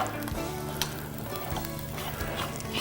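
Omelette filling hisses hard in a hot pan, a dense, close sizzle with soft thumps and scrapes from a utensil stirring it; no talking.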